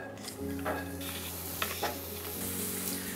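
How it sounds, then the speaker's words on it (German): Chopped celery and zucchini sear in a preheated pan with no oil, giving a steady crackling sizzle with scattered stirring scrapes and clinks, close and moderately loud, with no voices. "Die Pfanne ist vorgeheizt und da kommen die Sellerie und die Zucchini jetzt rein und werden angebraten."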